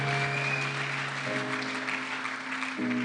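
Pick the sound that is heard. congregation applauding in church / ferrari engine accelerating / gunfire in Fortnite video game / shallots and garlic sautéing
congregation applauding in church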